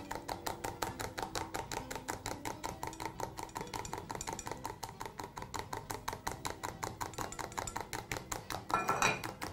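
A whisk beats rapidly and evenly against a bowl, steady rhythmic clicking for several seconds as butter and egg are mixed into hollandaise sauce, fairly quiet and close, with a brief louder scrape near the end.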